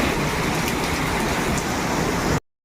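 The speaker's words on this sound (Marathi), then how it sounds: "बघा पाऊस" Steady heavy rain pours down in Katra on the Vaishno Devi pilgrimage route, a dense, unbroken hiss close by that runs evenly throughout and then cuts off abruptly at the end.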